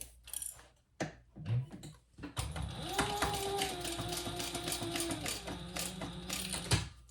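Sewing machine stitching a seam on a festival hip bag, starting with a few short bursts and then a steady rapid mechanical whir, close and fairly quiet.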